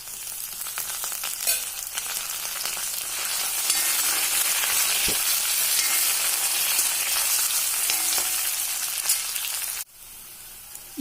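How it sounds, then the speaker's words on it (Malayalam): Curry leaves hit hot oil for a bitter gourd pickle with a loud, crackling sizzle that swells and stays intense, then drops off sharply near the end. "ഇതിലേക്ക് കറിവേപ്പില ഇട്ട് കൊടുക്കാം."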